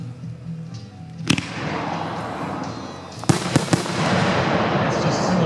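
Lido 2.5-inch salute firework shells burst as sharp, loud bangs, one near the start and a quick cluster of several later, ringing over steady outdoor background noise.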